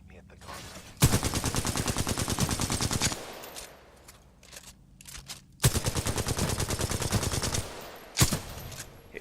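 Hip-fired weapon in Titanfall 2, two long sustained bursts of rapid automatic fire, loud and close, separated by a quieter gap, each ending in a single sharp report.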